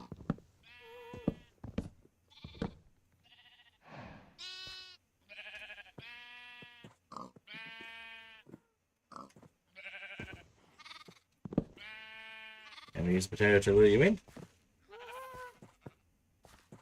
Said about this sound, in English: Oh, and now we've got the sheep trying to get out.